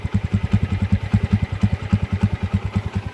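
A cheap 100cc motorcycle engine idles close by, a quick, regular low putter with a slightly clattery edge and no voices.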